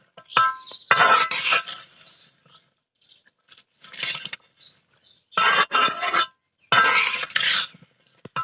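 Fish curry is stirred and mixed in a hot pan, heard as bursts of scraping, clinking spoon-on-metal sounds separated by quiet pauses, close and fairly clear.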